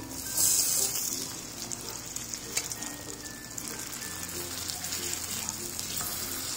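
Beetroot cutlets fry in a pan over low gas with a soft, continuous sizzle and light crackle, close and fairly quiet, with a brief stir or flip near the start.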